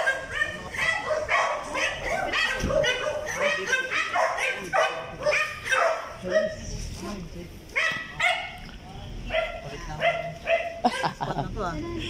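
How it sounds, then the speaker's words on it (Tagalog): Several dogs bark and yip repeatedly in an outdoor spot in the Philippines. Their barks keep coming under and between lively, nearly constant conversation. "Daming aso din."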